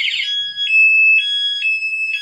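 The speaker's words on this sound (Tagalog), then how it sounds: "Alarm na siya." Aftermarket alarm on a Honda XR 200 motorcycle sounds loud and close, a shrill electronic tone pulsing in a quick repeating warble, with no voices over it.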